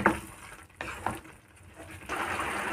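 Sweet tomato chutney cooking in a pan gives a soft, steady sizzle with a few scraping stirs, swelling louder toward the end, with no voices.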